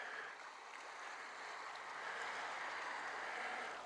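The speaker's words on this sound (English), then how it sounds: "The little waves lapping in" Small waves lapping on the shore of Ullswater lake, a soft, continuous washing hiss that stays even and fairly quiet, with no talk over it.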